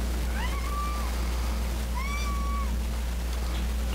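A cat gives two drawn-out meows, close and clear, over a steady low hum indoors.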